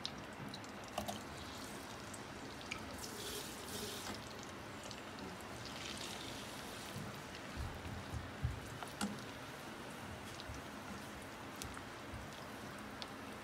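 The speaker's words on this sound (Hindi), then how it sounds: "तो ये देखें मेरी प्याज फ्राई हो रही है।" Sliced onions sizzle and fry in hot ghee for a kabab dish, a steady close crackling hiss with scattered pops throughout, no voices over it.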